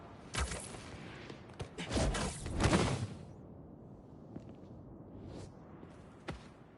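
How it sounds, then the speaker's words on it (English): Fireworks pop and burst in Marvel's Spider-Man 2, a cluster of sharp cracks and crackling bursts early on, then scattered single bangs trailing off, moderately distant and without talk. "The fireworks! They're lit!"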